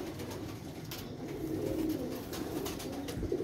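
Pigeon cooing low and steady, a soft murmuring burble with background noise and no talk.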